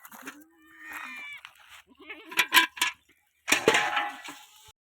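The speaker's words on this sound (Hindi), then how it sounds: "ये देखो ये चल रही हैं हमारी सारी बकरियाँ" A herd of goats moving through a farm field, with a few bleats and rustling movement sounds, mixed with nearby human voices and scattered clatter.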